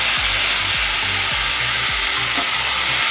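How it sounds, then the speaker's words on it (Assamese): Ground onion and tomato paste frying in a hot pan for a mushroom cauliflower curry, giving a steady broadband sizzle with a few low periodic scraping strokes underneath; no speech. "এতিয়া মই পিঁয়াজ, বিলাহী গ্ৰাইণ্ড কৰিছিলোঁ যে এয়া দি দিছোঁ।"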